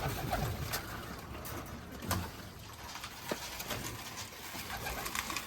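Pigeons in a loft, a flock of Budapest, mirror and Polish butterfly breeds, giving soft low coos and occasional rustling with brief flaps amid steady background noise, moderately faint.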